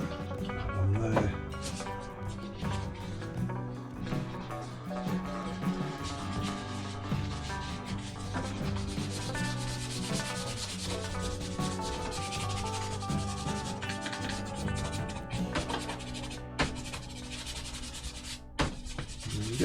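A cloth dampened with isopropyl alcohol rubs steadily over a plastic scale model, scrubbing acrylic paint back to the white primer in a continuous close, dense scraping wash that lasts throughout.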